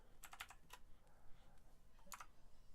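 Quiet, close clicks of a computer keyboard as names are typed in, a few quick bursts of keystrokes separated by short pauses over a faint background hiss.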